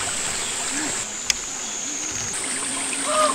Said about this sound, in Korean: 우와, 물소리 봐.